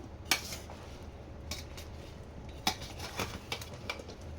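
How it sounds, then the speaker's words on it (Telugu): Raw mango pieces being stirred with oil in a dish for ginger mango pickle: sparse, sharp clinks and taps of utensil against dish, close but quiet, spaced irregularly over a soft background, with no voices. "ఈ ముక్కలలో వేసుకొని మామిడి ముక్కలలో వేసిన ఆయిల్ బాగా ముక్కలకు పట్టేలా"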